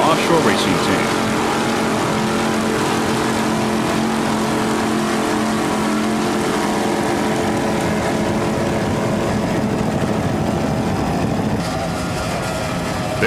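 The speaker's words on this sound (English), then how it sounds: "We're looking at the Ramada Offshore Racing Team." Offshore racing powerboat engines of the C-Class grand prix fleet drone loudly and steadily throughout, a dense continuous roar with a voice talking over it.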